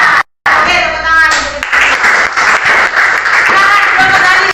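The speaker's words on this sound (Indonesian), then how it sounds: "Oke, tepuk tangan." Classroom group of students clapping together in a loud burst after a brief pause, with voices audible over the applause.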